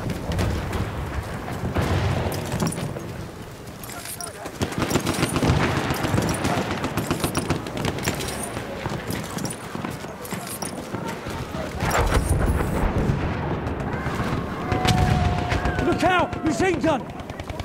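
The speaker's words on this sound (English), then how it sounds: "Machine gun!" Automatic machine-gun fire in the Battlefield 1 video game, rattling in dense bursts amid a busy, loud battle mix of explosions and game callouts, continuing through most of the stretch.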